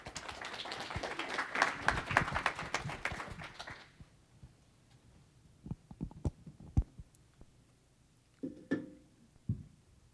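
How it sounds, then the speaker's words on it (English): Audience applause at the end of a talk on bringing a sense of place to digital navigation, a dense burst of clapping for the first few seconds that cuts off, followed by scattered knocks and brief voices. "One more round of applause for Emily."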